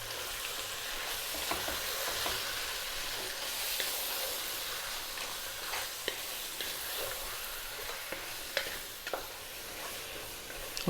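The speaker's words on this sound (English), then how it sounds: "in with our lovely lamb mixture. And we're on quite a high heat now, as you can hear." A lamb biryani mixture sizzles over high heat with a constant close frying hiss, broken by occasional sharp clicks and scrapes as it is stirred, with no talk.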